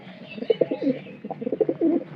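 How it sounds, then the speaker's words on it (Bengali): A long-breed pigeon coos in a series of soft, throaty low calls, two bursts of repeated coos close by with a short pause between, no talk over them. "এই যে এটা যেমন লম্বা জাতের কবুতর"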